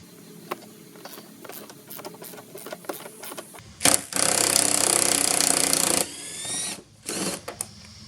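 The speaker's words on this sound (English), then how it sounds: "Pop off that nut, as well as the nut on the opposite side." A wrench works on a nut under the seat of a 2004 Mustang convertible. Scattered clicks come first, then a loud buzzing mechanical rattle holds for about two seconds, and a few shorter bursts follow close by.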